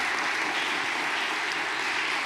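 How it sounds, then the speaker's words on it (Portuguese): A church congregation breaks into applause, a dense, steady wash of clapping that holds evenly throughout at a fairly distant, moderate level with no voices on top. "Vamos dar uma salva de palmas."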